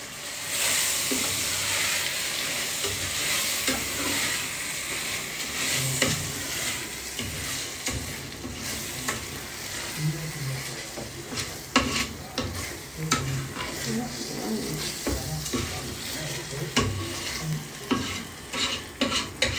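Jollof rice frying in a pot in Ghana is stirred continuously, with a steady sizzle under clattering spoon scrapes and knocks that grow louder and more frequent toward the end.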